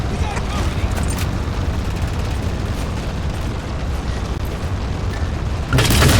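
Railgun shot and explosion in Halo 4, a dense, rumbling roar of blasts and debris that swells again at the end, with a voice speaking over it.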